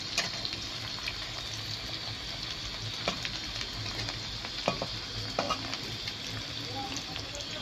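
Onions frying in a pan before meat goes in, a soft continuous sizzle with scattered spoon taps and scrapes, close and fairly quiet.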